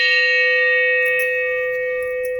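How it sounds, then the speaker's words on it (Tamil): A single strike on a century-old antique bronze vessel rings out like a temple bell, a bright, sustained metallic tone that fades slowly with nothing else heard. "சவுண்டை பார்த்தீங்களா, கோயில் மணி மாதிரி"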